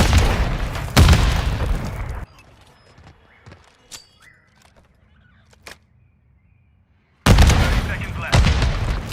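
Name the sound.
grenade explosions in the video game Modern Warfare III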